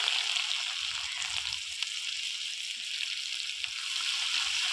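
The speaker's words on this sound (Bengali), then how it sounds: "মাছ ভাজা তেলে জিরে ফোড়ন," Cumin seeds and chopped onion sizzling in oil left over from frying fish, a steady close hiss of frying with a few faint stirring knocks.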